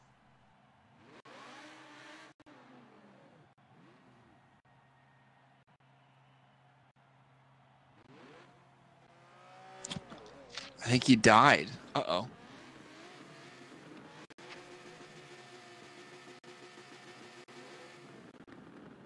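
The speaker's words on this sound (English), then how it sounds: "You guys can hear the engines revving now." Race car engines rev in a racing video game, a Lamborghini Gallardo Super Cup championship round on the Nürburgring GP circuit, with a loud, rising burst of engine noise midway while someone talks over the game.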